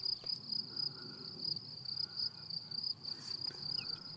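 Insects in a wildflower meadow of wild pinks, knapweed, fennel, wild carrot and arnica keep up a steady, high pulsing trill at moderate distance, with no voices.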